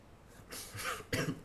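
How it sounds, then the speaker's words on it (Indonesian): A short cough, then a second sharper cough, close to the mic in an otherwise quiet moment. "sorry batuk angin"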